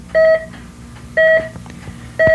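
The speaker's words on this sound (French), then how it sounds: "Et maintenant, si je vais vers la gauche, ça va être une tonalité plus claire." A higher, cleaner electronic tone from an amateur radio antenna rotor turning left, heard as three loud, evenly spaced beeps about a second apart over a quiet, steady electrical hum.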